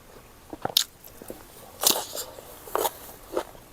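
Crispy soy-braised chicken drumsticks and wings being bitten and chewed close up, with a few sharp crunchy bites spaced through quiet moments of soft chewing and no talk.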